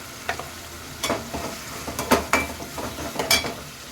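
Egg curry masala frying in a pan, a soft steady sizzle broken by several sharp scrapes and clinks of a spoon stirring against the metal, close and fairly quiet.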